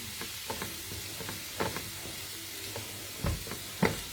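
Masala base for a paneer dish frying in a pan, a soft steady sizzle with scattered light clicks and stirring scrapes throughout, fairly quiet and without any talking.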